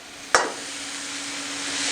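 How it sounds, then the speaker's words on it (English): Shrimp dropped straight into a hot pan: a sharp clatter as they land, then a steady, loud sizzle of searing that holds and slowly builds, with no voices. "we're ready to add our shrimp. And we're going to add our shrimp straight in"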